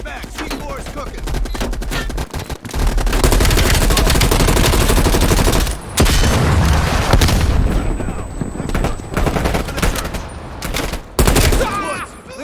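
Heavy gunfire and explosions fill a Call of Duty Black Ops Cold War firefight after a C4 charge: loud, dense bursts of automatic fire and blasts run almost continuously, broken by a couple of brief near-silent gaps.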